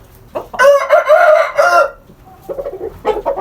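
Roosters crow nearby, one long loud drawn-out call followed after a pause by a shorter, choppier crow, with faint clucking in between.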